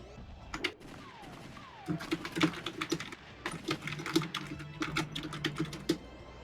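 Rapid keyboard typing while playing The Typing of the Dead: a steady stream of quick key clicks, with game gunshots and effects scattered underneath at low volume.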